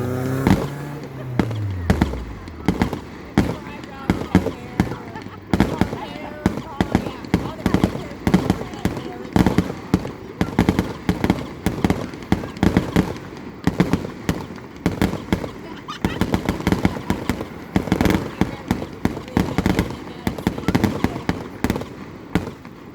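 A fireworks show on June 27, 2019 fires rapid, repeated explosive bursts and crackling pops, loud and near, continuing throughout while people talk among the blasts.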